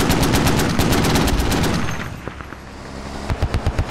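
Gunfire in the military shooter game Squad: a loud, sustained automatic burst rattles for two seconds, fades into distant shots, then a closer rapid string of rounds returns at the end.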